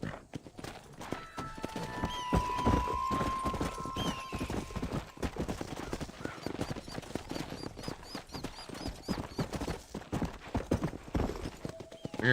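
Horse hooves clip-clop steadily in Red Dead Redemption, a brisk rhythmic trot running the whole time amid game ambience, with occasional whinnies and a sustained tone partway through.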